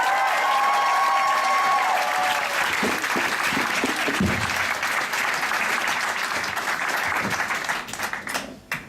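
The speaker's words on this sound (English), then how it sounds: "So your applause for the real physicist of tonight" A theatre audience at a Brussels comedy-science night applauds a physicist onto the stage, a dense, loud, sustained clapping from a full room that holds steady before thinning and dying away at the end.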